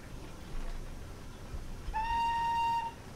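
Steam whistle of an LNER Y7 tank engine in a train simulator game, a single clear, steady blast lasting about a second, sounding over a low idling rumble of the locomotive.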